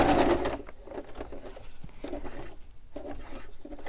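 A sewing machine stitches a paper bingo card onto a glassine bag, a close rapid chattering of needle strokes in short runs with slight pauses.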